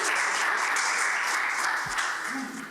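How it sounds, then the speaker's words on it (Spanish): Applause from an audience at a church men's event, honoring a pastor: a dense, continuous wash of clapping that holds steady for nearly three seconds and then eases slightly. "un aplauso, cómo no."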